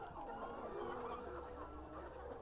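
Free-range farm chickens raised in a garden flock keep up a dense, continuous clucking nearby, many birds calling at once in a steady murmur without a break.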